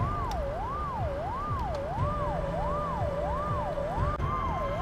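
A wailing ambulance siren in the video game Find Me sweeps steadily up and down in a smooth, repeating cycle over a low rumbling engine-like drone, continuous and fairly loud throughout.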